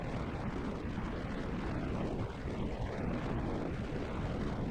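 Rocket engines roaring during a launch in a spaceflight simulation game, a dense, continuous low rumble at steady loudness throughout.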